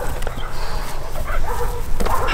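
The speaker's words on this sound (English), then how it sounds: "The dog is barking." A dog gives a few short, sharp barks and yips close by during protection training, spaced irregularly over a low background rumble.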